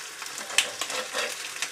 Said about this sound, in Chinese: 现在咱们锅里面的鲫鱼啊已经煎了有8分钟了，现在咱们给它翻个面